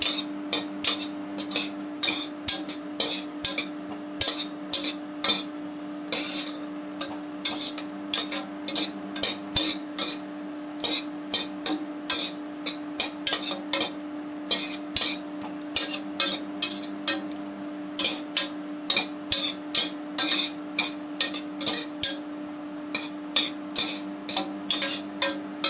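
Cashews frying in a pan for khara pongal, heard as a long run of quick, regular metallic taps and scrapes of a spoon against the pan over a low steady hum, close and without any talk.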